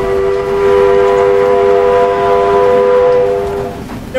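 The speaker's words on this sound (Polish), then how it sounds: "Pociąg! Pociąg! Ekspres towarowy!" Loud sustained horn blast from a freight express train in Roblox's Wild West game, a steady multi-tone chord over rolling rumble that stops abruptly near the end.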